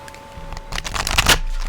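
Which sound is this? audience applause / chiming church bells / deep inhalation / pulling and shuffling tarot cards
pulling and shuffling tarot cards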